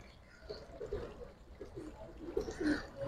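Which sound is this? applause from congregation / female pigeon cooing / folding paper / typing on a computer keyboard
female pigeon cooing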